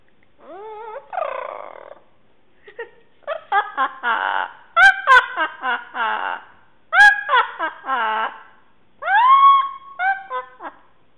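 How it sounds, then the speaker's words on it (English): An Amazon parrot at play gives a string of loud, close, squawking and chattering calls in uneven bursts with short pauses, some rising whistle-like notes, and no human voice. "It's a bird. It's playing."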